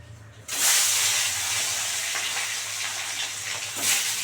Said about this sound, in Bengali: এবার মাছগুলো একটা একটা করে দিয়ে দেবো আর এইগুলো না মানে খুব ফাটে